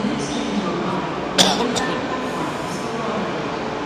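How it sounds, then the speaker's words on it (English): Subway train running on an underground line in Vancouver, a steady rumbling roar of wheels with a brief metallic clink and faint squeal midway, with people audible in the background. "that train looks a little bit empty"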